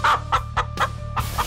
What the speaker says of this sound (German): Hier wohnen unsere Hühner